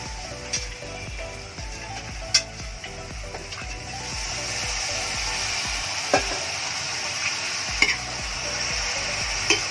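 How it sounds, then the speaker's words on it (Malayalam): Buffalo meat frying in masala on a gas stove, with a steady close sizzle under repeated stirring scrapes and occasional sharp clinks of a spoon against the pan. "പതുക്കെ പോത്തിറച്ചി ഇപ്പൊ നമ്മൾ ആഡ് ചെയ്യും."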